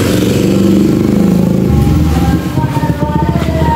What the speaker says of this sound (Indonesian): masih ada sih beberapa yang lewat motor tuh